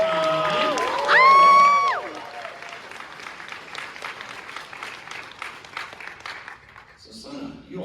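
Audience at a comic convention panel bursts into cheering with shrill whoops, then settles into sustained applause that fades toward the end, where a voice starts talking again.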